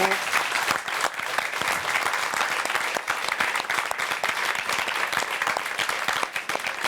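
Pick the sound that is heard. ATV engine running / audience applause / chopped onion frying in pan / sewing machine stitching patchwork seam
audience applause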